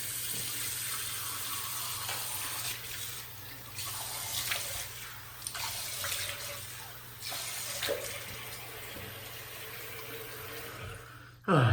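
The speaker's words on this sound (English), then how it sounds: "So let's wet my face." Tap water runs steadily into a bathroom sink while someone wets their face before a single-edge razor shave, a continuous close splashing hiss with brief changes in flow and no talk.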